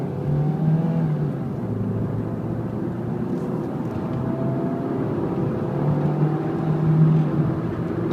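A 2003 Ford Focus ZX5 hatchback with an automatic transmission pulls away, its engine droning steadily from inside the cabin with a slight rise in revs.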